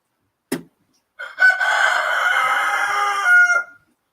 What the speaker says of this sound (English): That fucking chicken, you gotta kill that chicken, dude. It's making way too much noise.